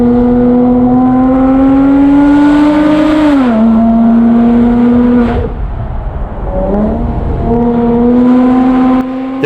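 A Porsche Boxster S with a Top Gear valved exhaust holds a loud, steady high-rev drone. The note dips and swells as the revs drop and climb back, close and without voices.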